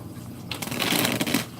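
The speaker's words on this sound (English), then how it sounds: "I'm gonna shuffle again" A deck of tarot cards being shuffled, a brief riffling flutter of cards close to the microphone, steady and alone without voices.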